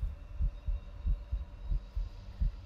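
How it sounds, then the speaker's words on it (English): A heartbeat sound effect from the horror video game Midnight Hours: a low, muffled double thump repeating steadily about five times in under three seconds over a faint hum. "The heartbeat means when he's close."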